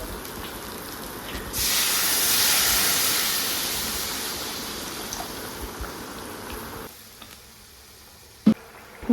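Water poured into a hot pan of fried masala for gravy, a sudden loud hissing sizzle that slowly dies down, followed by a quieter simmer and a couple of sharp clinks.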